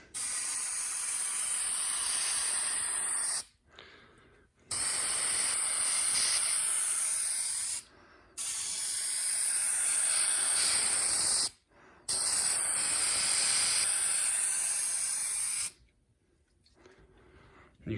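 Spray paint coat going onto a card file cabinet, four long, steady aerosol hisses close up, each broken by a brief silence between passes.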